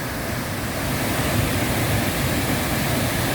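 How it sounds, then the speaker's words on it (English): The Great Falls of the Passaic River roar as water tumbles down a cliff through many channels and a narrow slot, a loud, broad and unbroken rush with no talk. "which makes for a real interesting waterfall because it's going to find lots of ways down the cliff"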